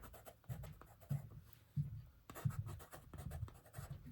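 Soft scratchy strokes of a watercolor pencil on paper, a series of short bursts with brief pauses between them, quiet and close.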